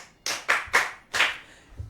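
Several people clap together in a few short, sharp bursts, loud and close, with brief pauses between the rounds of applause.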